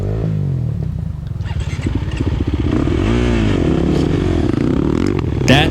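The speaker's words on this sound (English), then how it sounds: "Okay, let's get this bike out of here." A 2023 KTM 350 XC-F dirt bike at a scramble race starts up and takes off, its engine revving loudly and climbing in pitch close by. A clattering burst sounds near the end.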